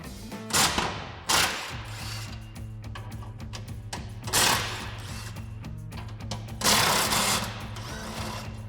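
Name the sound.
13mm socket ratchet removing bolts from Ford Bronco bumper bracket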